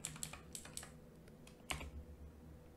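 Computer keyboard keys being pressed while working on a JavaScript number-validation form in a browser, several quiet, sparse clicks close by over a faint room hum, with no talking.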